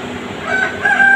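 A rooster crows twice in quick succession, the second call longer and louder, over a steady background hum.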